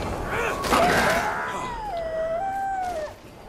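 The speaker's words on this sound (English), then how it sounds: "And there's my dog Paritas fighting at my side." A pet dog in the Guild Wars 2 video game howls in one long, wavering, rising and falling cry over a couple of seconds, fairly near and clear above faint background game sound.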